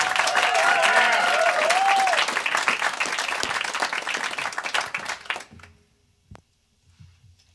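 Studio audience at a performance in the Bing Lounge in Los Angeles applauds loudly and steadily, then the clapping thins and dies away into near silence, with a few faint sounds after it.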